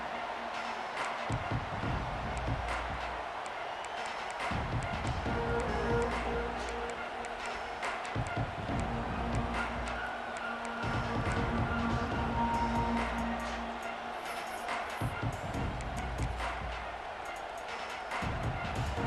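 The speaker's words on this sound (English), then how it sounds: "This crowd trying to make life miserable for this offense." Stadium crowd noise in EA Sports College Football 26: a constant broad roar of fans that swells and dips in waves, filling the background throughout.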